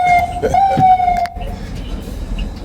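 An ambulance siren wails steadily at moderate distance, then cuts off, with traffic rumble and street noise continuing after it.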